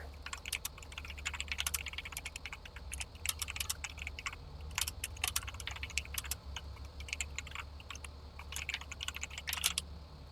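Computer keyboard keys tapped rapidly and irregularly during gaming, a steady clatter of light clicks running the full length over a low constant hum, with no talk.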